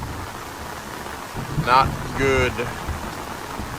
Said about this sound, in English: So we're getting a little bit of rain today, so we had to cancel work.